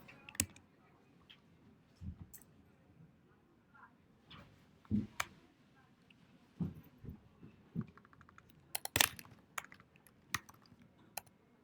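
Computer keyboard typing heard close and quiet, as irregular clusters of sharp key clicks with short pauses between bursts.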